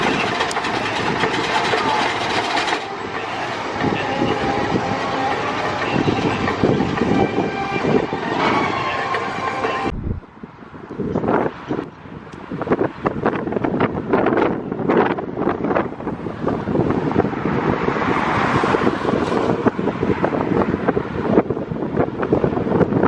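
The Mamba roller coaster at Worlds of Fun roars past as a loud, continuous rumble buffeted by wind on the microphone, briefly dropping away partway through before the clattering rush resumes.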